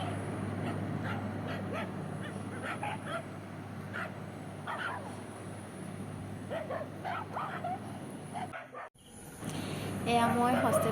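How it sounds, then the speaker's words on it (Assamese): Several street dogs bark and yip outside a hostel entrance, repeated sharp barks over a steady low hum, fairly close, with a brief dropout near the end followed by whimpering yips. "ইয়াত দেখিছে কুকুৰবোৰে ভুকি আছে হোষ্টেলৰ আগত।"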